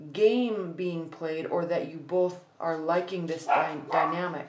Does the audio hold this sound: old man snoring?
no